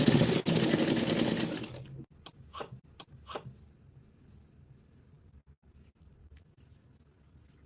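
A sewing machine runs in a loud continuous burst of fast stitching for about two seconds during home tailoring, then stops, leaving a few soft clicks and handling taps in a quiet room.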